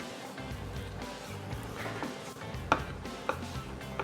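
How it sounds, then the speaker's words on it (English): A knife dices raw tuna into cubes on a cutting board for poke, giving two sharp, close taps a moment apart over a steady background hum. "And then we're gonna dice it."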